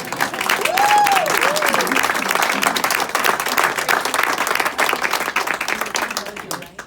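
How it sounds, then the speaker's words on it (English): An audience applauds in a room, a dense burst of clapping that swells quickly and fades toward the end, with some voices and a brief whoop mixed in. "So can I give them a round of applause?"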